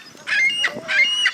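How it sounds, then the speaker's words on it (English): Ducks give a quick series of three or four nasal, honking quacks close by, loud and closely spaced within a little over a second, with no talking. "Cute ducks."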